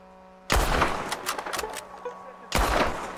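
Two loud rifle shots from a sniper rifle in Red Dead Redemption 2, each a sharp crack with a long rolling echo, the first followed by fainter distant reports before the second shot lands about two seconds later.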